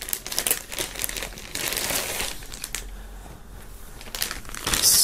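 Plastic foil crinkling loudly in bursts as a band T-shirt is pulled out of its wrapping, irregular rustles and crackles close up, with a louder crunch near the end.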